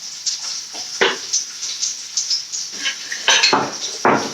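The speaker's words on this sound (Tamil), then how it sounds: "பூண்டு சும்மா ஒரு 2 பல்லு அப்படியே முழுசா தோலோட நெருக்கி போட்டுக்கலாங்க" Whole garlic cloves, skin still on, being crushed in a kitchen: a series of sharp clinking knocks and metallic taps at irregular intervals over a faint high whine, close and clear with no talk.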